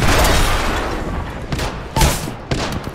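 Gunfire in Apex Legends, a loud, close burst of rapid shots followed by several separate heavy single shots with short gaps between them.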